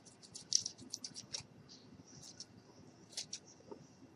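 Quiet, sharp snips of scissors cutting thin material, a quick cluster of clicks followed by a pause and another few cuts.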